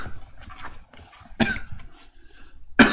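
Close, loud coughing from a person leading a Bible study reading, two sharp coughs spaced more than a second apart with quieter breathing and throat sounds around them.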